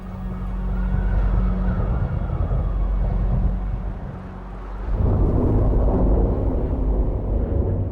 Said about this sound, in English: As a storm comes into the face